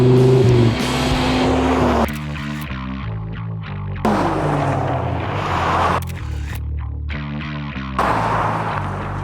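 A Toyota GR Corolla with a turbo three-cylinder and a 1994 Dodge Viper V10 accelerate hard in a race, loud engine roars climbing in pitch and cutting out at repeated gear shifts, with no talking.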